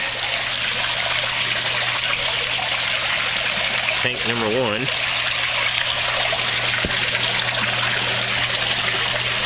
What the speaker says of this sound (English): with the water flowing.